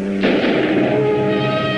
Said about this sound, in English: There's gunplay.